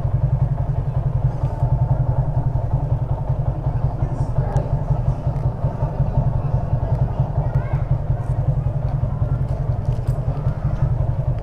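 A motorcycle engine idles steadily close by in Barangay Labi, Bongabon, Nueva Ecija, a continuous low throbbing rumble that holds even for the whole stretch while it rests before being switched off.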